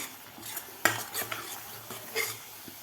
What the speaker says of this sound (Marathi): आपल्याला हे मसाला परतून घ्यायचा आहे